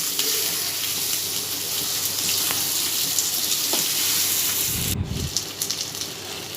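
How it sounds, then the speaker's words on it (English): Cut potatoes fry in a pan with a steady, loud, close sizzling hiss, then a brief clatter near the end. "Now add the potato chips, cut potatoes, mix it, fry it a little bit."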